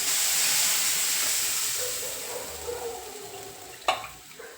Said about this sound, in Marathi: खूप मस्त असा कांदा मिरची परतून झाले आणि आता आपण हे पीठ टाकणार आहोत